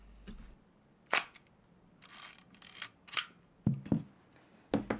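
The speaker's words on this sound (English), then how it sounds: "All the shutter speeds sound accurate enough" An Exakta camera shutter fires several times in quiet, giving sharp, close mechanical clicks at irregular intervals, some as quick double snaps.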